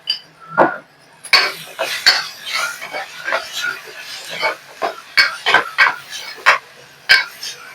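Chili powder stirred into reddish fried onions in a pan for green pea curry, a ladle scraping and clinking against the metal pan in uneven strokes, with a voice talking over parts of it.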